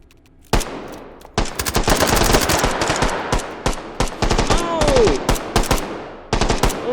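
Pistol gunfire in the VR shooter game H3VR, a loud, close run of sharp shots fired in quick bursts with short pauses between volleys, plus brief metallic clatter, over nearly the whole stretch.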